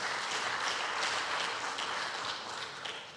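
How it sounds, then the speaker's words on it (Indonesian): Audience applause fills a closing ceremony at the Indonesia Stock Exchange, a dense, steady wash of many hands clapping at close range with no talk over it for about three seconds. "Kita beri tepuk tangan juga."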